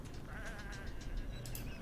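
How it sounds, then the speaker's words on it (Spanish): Several sheep bleat in the video game Whateverland, a few short wavering calls close by over a low ambient game background. "Come on, these are just sheep."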